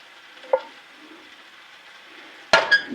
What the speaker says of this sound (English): I just want to get the fond off the bottom